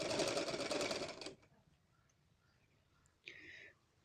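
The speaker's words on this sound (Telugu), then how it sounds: "క్రాస్ బెల్ట్ అనేది ఈ విధంగా ముందుకు ఒక పావించేంత ముందుకు ఇలా పెట్టేసి కుట్టు వేసేసుకుంటూ రావాలి." Sewing machine stitching the cross belt of a halter neck blouse, a loud rapid run of about a second and a half, then quiet, then a second short burst of stitching.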